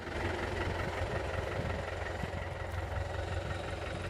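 Tractor engine droning steadily while pulling a 14-tine harrow through a field, a loud continuous mid-pitched rumble with a faint rhythmic chug and no breaks, no voices.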